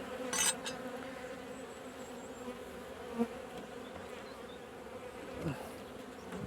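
Honey bees buzzing steadily around a hive being fed and closed up for winter, a continuous close drone with occasional louder passes of individual bees near the microphone, and no talking.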